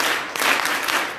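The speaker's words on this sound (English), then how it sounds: "Okay, let us do Coca-Cola clap." A school audience at a primary school seminar claps the rhythmic Coca-Cola clap, a dense burst of many hands over about a second, fairly loud and steady with no talking.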